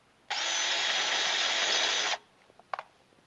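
A pneumatic air riveter sets rivets into a Dodge Charger B pillar, letting out one loud sustained hiss-and-rattle burst of nearly two seconds, followed by a few faint clicks and a short sharp knock.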